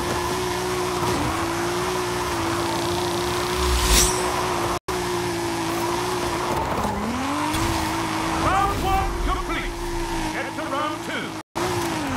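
A car drifting in Forza Horizon 5, its engine droning steadily while tires squeal and skid through turns, loud and close, with voices talking over the sliding car throughout.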